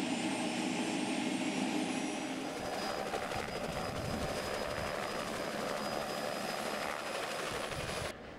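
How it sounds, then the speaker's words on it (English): A helicopter drones loudly, flying low and slow over Phragmites-covered shoreline, its rotor and engine noise steady and continuous before cutting off abruptly at the end. "The helicopter flies low, they fly slow."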